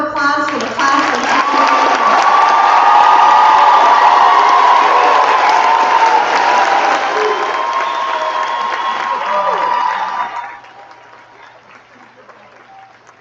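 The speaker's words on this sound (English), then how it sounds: "Let's give one more round of applause for the class of" Loud, sustained applause and cheering from a high school graduation crowd, with whoops over dense clapping for about ten seconds before it fades to a low murmur.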